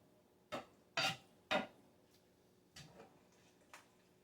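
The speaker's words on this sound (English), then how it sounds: "Mashing all this up, stirring it as well." Spoon stirring and mashing food in a pot while making roast beef gravy, a few close clinking scrapes against the pot, three sharp ones in quick succession and then softer scattered taps.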